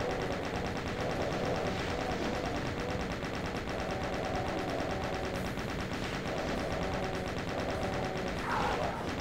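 A chain gun in a video game fires a loud, continuous stream of rapid shots without letup, dense and close, with faint talk barely present.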